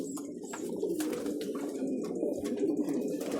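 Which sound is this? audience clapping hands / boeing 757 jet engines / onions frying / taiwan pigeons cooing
taiwan pigeons cooing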